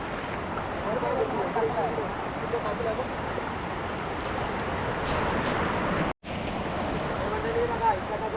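Kondi waterfall in full monsoon flow: a steady, close broadband roar of rushing water that runs unbroken apart from one brief dropout.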